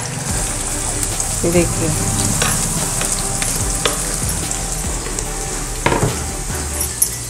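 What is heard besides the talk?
chopped onions frying in oil with peanuts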